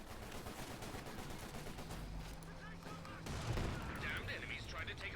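Machine gun fire crackles through a battle in the strategy game Company of Heroes 2, sustained rapid bursts over booming explosions, with a commentator talking over the fighting.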